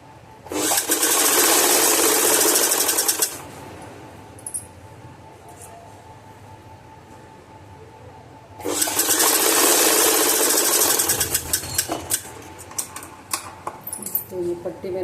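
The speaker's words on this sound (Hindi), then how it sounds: "तो ये पट्टी मैंने सिल ली है यहाँ से।" A sewing machine stitching a double-folded fabric strip for a latkan tassel, running in two long steady mechanical bursts with a pause between them, close and loud, with a faint voice heard during the gap.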